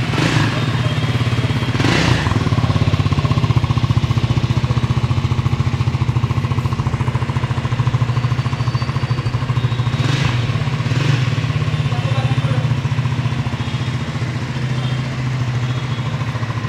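Triumph Scram 400x motorcycle engine running steadily at a constant, loud, close rumble for the whole stretch, with a few faint sharper noises over it.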